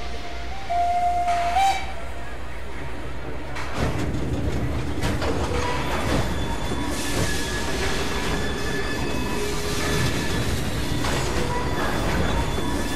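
A steam locomotive in the video game Assassin's Creed Syndicate rumbles along with a steady low rolling drone, a brief whistle at the start, hissing and faint metallic squeals, close and continuous.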